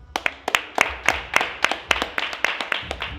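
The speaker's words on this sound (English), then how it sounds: "Let's give a round of applause for Jermaine." A small group claps at a reunion show in a steady burst of distinct hand claps, fairly close and lively, with faint voices underneath.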